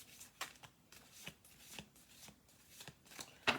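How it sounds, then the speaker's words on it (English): Oracle cards riffle and slap in quick, soft bursts, a quiet close-up shuffling with short pauses between passes. "I'm going to do one more shuffle through on this"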